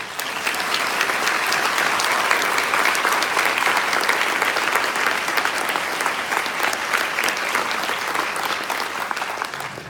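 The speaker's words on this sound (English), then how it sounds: "I think you guys should give yourselves a round of applause" Audience at a school district's opening day breaks into sustained, dense applause, many hands clapping steadily and loudly for the full stretch without a break, with faint crowd murmur beneath.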